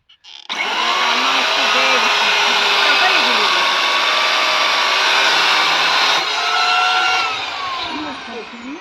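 Firewood is cut for winter fuel, with a loud, steady motor drone running up close for several seconds, its pitch wavering slightly as it bites, then easing off near the end; voices may be faintly present.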